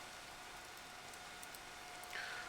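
Steady rain falling in the Minecraft video game, a constant even hiss that stays level throughout with a slight swell near the end and no voices.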